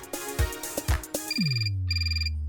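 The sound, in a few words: telephone ringtone ringing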